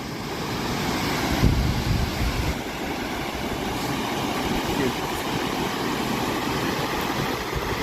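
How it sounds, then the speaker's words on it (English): The Kepler Cascades in Yellowstone, a series of waterfalls in a large gorge, give a constant broadband roar of rushing water with some wind buffeting on the microphone. "It's a series of waterfalls"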